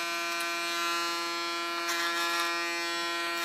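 An electric hair clipper cutting a short style, giving a steady, close mechanical buzz with a strong constant hum that shifts slightly as it moves through the hair.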